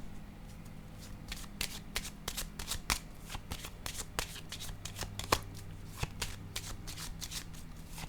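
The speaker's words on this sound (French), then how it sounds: "je vais déposer une carte sur l'ermite" Tarot cards being shuffled and laid down on a table, a close run of crisp riffling and snapping card sounds in quick irregular bursts, heard alone without talk.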